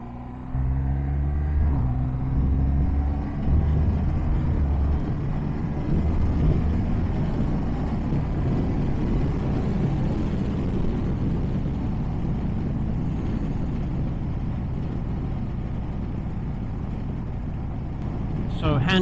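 A BMW R1200RS motorcycle engine drones steadily while riding, with a few stepped pitch changes early on as it shifts gears, a continuous low rumble under wind.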